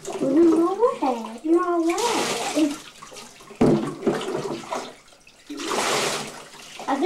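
A pet being rinsed with water in a bathtub, with bursts of running, splashing water between stretches of close, lively talk.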